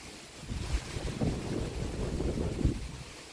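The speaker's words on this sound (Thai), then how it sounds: "ลมแรงมากเลย" Strong wind roars across the microphone in heavy gusts, with a watery, surf-like rush in the background.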